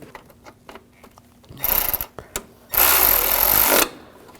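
A power tool snugs down knock sensor bolts on a 2007-2013 BMW 328i 3.0L inline-six engine in two bursts, a brief whir followed by a longer, louder sustained buzz, with faint clicks before.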